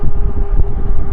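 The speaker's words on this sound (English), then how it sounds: "it's a little windy right in my face here" Loud, low rumbling wind buffets the microphone continuously while riding an e-bike, a heavy muffled roar with a steady hum underneath.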